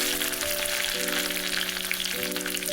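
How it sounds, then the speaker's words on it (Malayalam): Shallots, dried red chillies and curry leaves fry in hot coconut oil after mustard seeds, giving a steady close sizzle and crackle that runs unbroken with no voices. "കറിവേപ്പില ഇവയിട്ട് നന്നായി മൂപ്പിക്കുന്നു."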